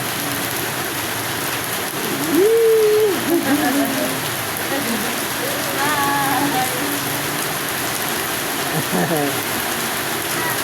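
Steady heavy rain hisses throughout, with faint voices and a brief whistle-like tone rising over the downpour.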